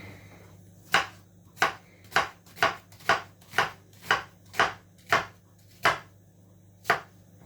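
A knife slices through an onion on a cutting board, about a dozen crisp, evenly paced cuts close up, with no voices.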